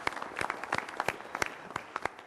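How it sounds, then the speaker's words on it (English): Sparse applause from a small group at a full board meeting, individual claps distinct and moderately quiet, lasting a couple of seconds with no talking. "but if we could also give Stan a round of applause in his absence for his hard work, I'd appreciate it."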